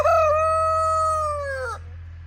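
A rooster crows once, loud and close, on a homestead in Portugal, a long harmonic call that holds steady then drops off abruptly, over a constant low hum.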